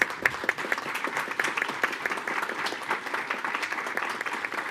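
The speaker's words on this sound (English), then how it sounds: "please stand up and let us give you a round of applause" An audience at a school board of trustees meeting applauds parents and a principal, sustained, dense clapping from a sizable crowd filling the room at steady volume throughout.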